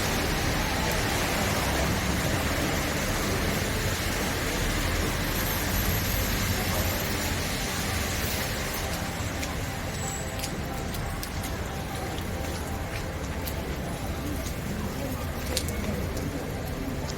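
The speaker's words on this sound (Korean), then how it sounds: "비 오는 날 전경을 한번 찍어 봤습니다" Rain falls steadily outside Riverain Mall in Hakata, Fukuoka, a continuous, even hiss of drops on pavement with faint street sounds, while a voice talks over it.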